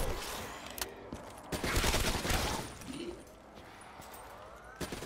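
Bursts of gunfire in Black Ops 3 Zombies on the Kino der Toten map, with a loud sustained volley in the middle and scattered shots around it, set over ambient game noise.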